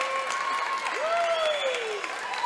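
Cheerleaders and fans cheer at a high school basketball game between Bigfork and Loyola: a steady wash of crowd noise and applause, with a sliding, whistle-like tone running through it.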